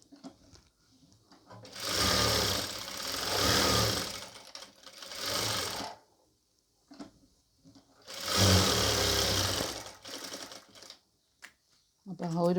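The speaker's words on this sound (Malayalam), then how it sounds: "അപ്പോൾ നമുക്കതൊന്ന് ചേർത്ത് വെച്ച് ഒന്ന് സ്റ്റിച്ച് ചെയ്ത് കൊടുക്കാം." Sewing machine stitching a three-piece nighty, two loud bursts of rapid mechanical whirring separated by pauses, with a person talking in between.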